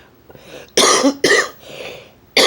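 A woman coughs several times in a row, loud and close, with short harsh bursts and brief gaps between them and no speech.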